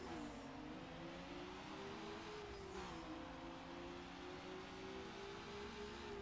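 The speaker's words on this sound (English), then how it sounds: "I don't know if it'll sound like I've got a rotary engine" A rotary-engined Mazda MX-5 in Need For Speed Underground revs continuously, its engine tone rising and falling in a smooth whir, heard faintly with no talk.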